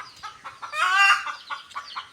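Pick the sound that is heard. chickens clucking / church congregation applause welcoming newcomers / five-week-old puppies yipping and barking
chickens clucking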